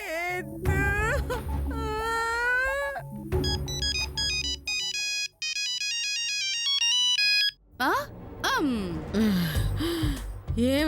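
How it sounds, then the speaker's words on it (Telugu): A mobile phone ringtone chimes in a rapid, stepped electronic melody mid-scene, framed by animated talk and exclamations from people in a home setting in a Telugu comedy serial. "మిస్డ్ కాల్ ఇచ్చాను"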